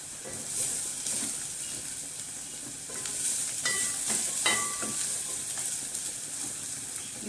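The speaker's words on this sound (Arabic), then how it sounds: "انا مش هحمر البصل قوي، اصفر بس كده وهشتغل بقى فيها" Onions fry lightly in a pan for an okra, potato and meat tagine, making a soft, even sizzle and hiss with a few faint clicks and pops scattered through it.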